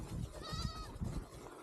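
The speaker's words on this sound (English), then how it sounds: "Baby goat." A baby goat gives one short, close bleat somewhere on a desert road trip in Morocco, over a low rumble of background noise.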